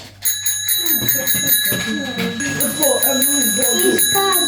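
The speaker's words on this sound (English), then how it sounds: "Bicycle bell inside the Easter egg." A small bicycle bell, found as a gift inside an Easter egg, rings in quick repeated metallic dings with bright sustained tones, close up, while people talk over it.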